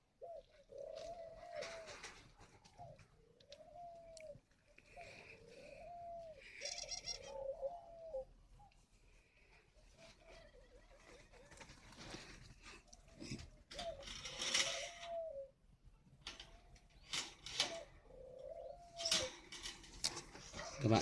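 Spotted doves at a breeding farm coo in repeated soft, rolling calls, mid-distance, mixed with scattered clicks and rustles from cages and movement.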